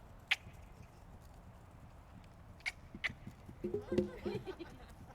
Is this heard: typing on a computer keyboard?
no